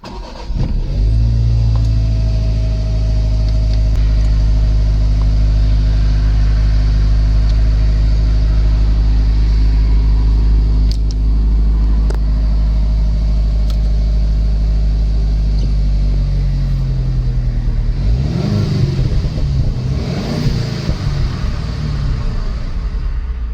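A Mazda MX-5 ND2 engine idles with a loud, steady low rumble, then revs and rises in pitch near the end, heard close and without talk.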